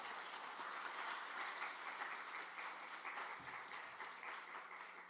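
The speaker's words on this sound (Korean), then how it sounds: "우리 박수로 한번 목사님 맞이하겠습니다." A church congregation applauds to welcome a pastor at a Sunday evening service, a soft, even wash of clapping from a large room that holds steady throughout.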